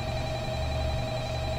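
A phone rings in the video game Five Nights at Freddy's, heard as a steady, continuous electronic tone with a sustained hum beneath it and no talk over it.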